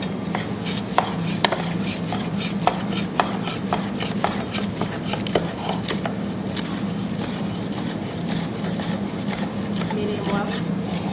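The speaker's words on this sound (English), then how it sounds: "I'm gonna cut this steak up." A knife cuts up cooked medium-well steak for tacos on a board beside a pizza oven, giving a run of sharp, close clicks and taps against a steady low background hum.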